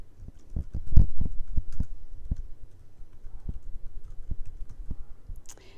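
Keys clatter on a computer keyboard as watermark text is entered in Arial at size 18, a run of close, crisp taps with uneven rhythm and a brief pause partway through, heard alone.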